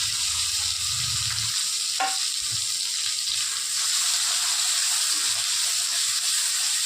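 Onion and tomato frying in a pan for a simple chicken curry, giving a constant close hissing sizzle with a couple of brief stirring knocks early on and no talking.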